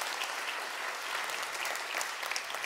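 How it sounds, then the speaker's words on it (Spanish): Audience at an event on Chilean innovation clapping, a dense, steady round of applause throughout, moderately loud with no voices over it. "un fuerte aplauso a todos los que participan en esta jornada hoy día"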